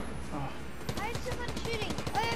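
Quick rattling bursts of video game gunfire run under close, excited talk in a steady rapid rhythm, moderately loud.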